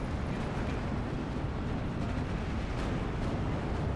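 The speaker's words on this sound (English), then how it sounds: "Gonna mortar the tanks too." Dense, continuous rumbling battle noise from the Steel Division 2 war game fills the mix as mortar fire falls on tanks, a loud, unbroken roar of distant explosions with no clear separate blasts.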